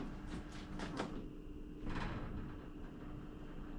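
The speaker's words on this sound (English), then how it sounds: "Door's vibrating." A refrigerator door rattles and buzzes with steady vibration, with a few louder knocks and clatters standing out over a constant mechanical hum in a garage workspace.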